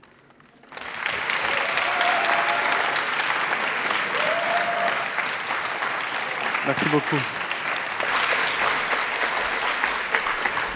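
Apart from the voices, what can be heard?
audience applause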